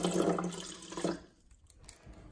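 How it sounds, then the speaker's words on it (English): Spring water from Mountain Roxane splashes into a cup for about a second in a close, bubbling pour, then stops, leaving near silence. "Let's pour some water in."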